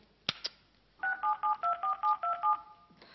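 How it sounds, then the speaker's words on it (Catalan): A phone call is dialed: a couple of sharp clicks as the handset is picked up, then a quick run of about eight touch-tone beeps in a steady rhythm, heard close and clear with no talking. "Jo truco a la Carme i ja està, vale?"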